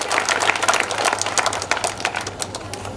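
Audience applause at an association meeting, a dense, steady patter of many hands clapping for the full stretch with some crowd noise mixed in.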